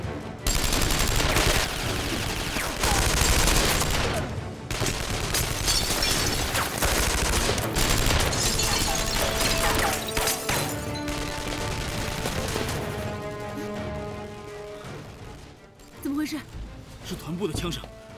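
Dense bursts of gunfire fill a battle scene in a Chinese TV drama, loud and continuous with volleys overlapping, while voices shout over the shooting.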